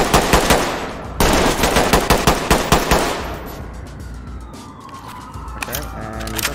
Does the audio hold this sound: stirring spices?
no